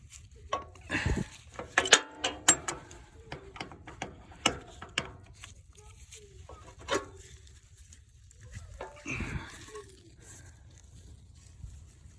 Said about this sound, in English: So right now I think I am going to take my oil filter off. Got my wrench in here.